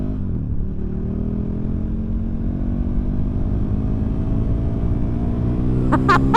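2018 KTM Superduke 1290R motorcycle with an Akrapovic exhaust riding along twisty roads, a loud steady engine drone rising in pitch as it accelerates, with a sharp burst of revving at the end.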